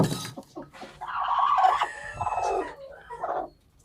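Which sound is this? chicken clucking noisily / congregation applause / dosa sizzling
chicken clucking noisily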